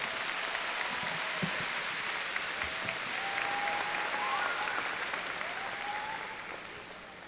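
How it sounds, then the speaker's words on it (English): Sustained audience applause at a high school class of 2022 graduation ceremony, dense and even, with faint whoops, gradually tapering at the end. "Let's give them a round of applause."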